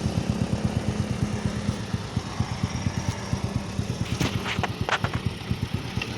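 A Suzuki Smash semi-automatic motorcycle engine with a tuned carburetor runs close by, its steady, rapid exhaust pulses thumping evenly throughout, with a few faint clinks and rattles partway through.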